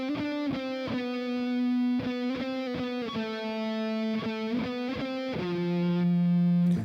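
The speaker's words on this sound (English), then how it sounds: "I've got this Nerd preset, Strato Rock, and I've just been playing around with the gain booster to make it more distorted" Distorted lead electric guitar through the Nerd Strato Rock preset with a gain booster, sustained gritty notes with repeated picked attacks and shifting pitches, continuous and fairly quiet.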